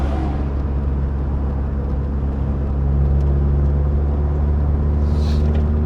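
Steady engine drone and road rumble from inside a 1999 Mitsubishi Eclipse GS Spyder convertible, loud and continuous with a slight rise partway through.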